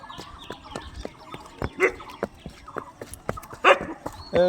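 Several dogs bark in sharp, irregular bursts, some close and loud, with a rooster or hens faintly clucking in the background.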